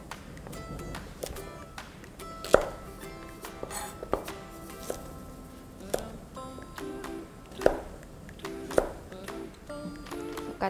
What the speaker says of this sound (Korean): 당근도 똑같은 크기로 다듬도록 하겠습니다